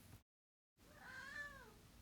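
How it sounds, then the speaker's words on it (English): Cat meowing near a garden summer house: a single drawn-out, rising and falling meow after a brief silence, fairly close and clear. "Sorry about my cat there."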